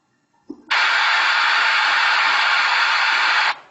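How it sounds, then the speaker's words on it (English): Burst of white noise generated in Audacity, a steady loud hiss switching on abruptly after a faint click and cutting off cleanly about three seconds later. "if we give noise, white noise, it will be converted to"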